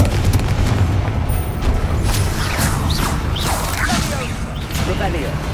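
Confringo fire spell bursts in the Hogwarts Legacy video game, a dense run of booming blasts and whooshing crackles layered over a constant rumbling game soundtrack.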